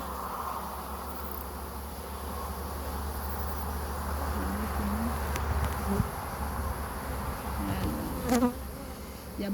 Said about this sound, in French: Il y a beaucoup de jeunes abeilles.